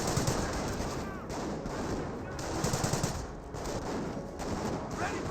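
MG42 machine gun fire in the World War II strategy game Company of Heroes, sustained rapid bursts with brief pauses, loud and dense, amid other battlefield gunfire.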